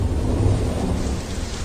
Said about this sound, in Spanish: Las tormentas azotaban los cielos y la lluvia comenzó a caer sobre la superficie rocosa.